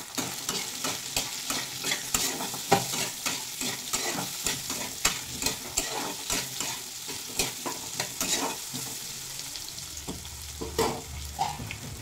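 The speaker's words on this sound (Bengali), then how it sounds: "আমি একটু সবজিটা ভেজে নেবো" Vegetables fry in oil, giving a continuous sizzle broken by regular clattering stirs of a spatula against the pan, close by and fairly busy, without speech.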